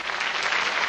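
A French television studio audience applauds in a brief, dense burst of clapping that lasts under a second at moderate level.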